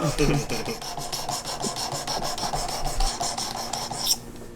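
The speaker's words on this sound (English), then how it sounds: "The initial sharpening is one of the things that you got to get, done." A file works the edge of a broadhead arrow tip in steady, close rasping strokes, a quick rhythmic run of metal scraping that stops abruptly near the end.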